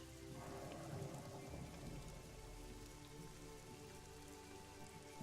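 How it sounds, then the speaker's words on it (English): Steady rain pours down at night beside a highway, a dense, even hiss of drops that stays loud and unbroken throughout, with low rumbling underneath. "The rain has picked up."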